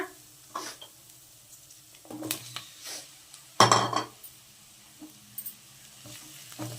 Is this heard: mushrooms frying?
yes